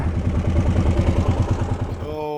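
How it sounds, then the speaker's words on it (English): A Kawasaki Brute Force 750 ATV engine idles loud and close with a rough, uneven thumping rhythm that stutters and falters toward the end. "Idles and runs, but not very good. Still stuttering."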